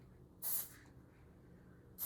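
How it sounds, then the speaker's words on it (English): An aerosol spray paint can hissing in two bursts as an artist blocks in basic shapes, one short close spray followed by another beginning at the end, with quiet room tone between. "I go in with aerosols and start creating more basic shapes"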